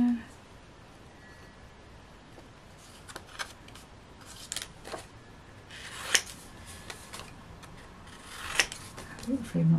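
Scissors trim papercraft material in a few soft, close snips and rustles, scattered across a quiet room background with brief handling noises between cuts.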